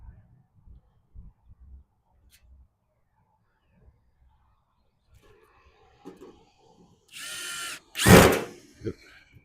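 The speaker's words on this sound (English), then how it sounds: "Should have my other drill here." After quiet handling noises, a power drill whirs briefly in two short bursts while making gate brackets for mounting lamps, close and fairly loud, with a clunk between them.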